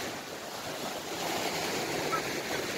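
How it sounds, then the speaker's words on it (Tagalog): Ocean surf rolls onto a crowded holiday beach as a steady, broad roar of breaking waves with wind, continuous and fairly even, with no talking. "Nakakatakot naman ang alon."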